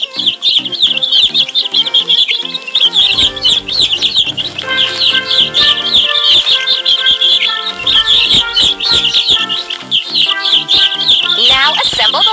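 Cartoon baby birds in a nest chirp rapidly and continuously in bright, high tweets, layered over a loud, busy backdrop of music and sound effects in a children's number-learning cartoon.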